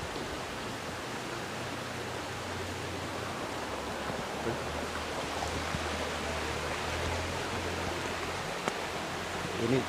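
A river flows near rice fields and bamboo with a steady, broad rushing wash of water that stays constant throughout, without clear talking.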